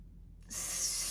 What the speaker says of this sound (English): I like to spray the inside with a non-stick spray.